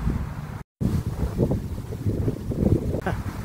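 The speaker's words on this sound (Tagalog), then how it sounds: "Ang hangin, sobra." Strong wind gusting across a lake, a loud continuous roar with rumbling microphone buffeting and a brief dropout near the start.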